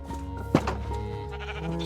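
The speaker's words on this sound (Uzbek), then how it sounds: "Mana bolalar, bizni qo'ylar," A Minecraft sheep gives a single short, close bleat over a quiet in-game background, with no voices.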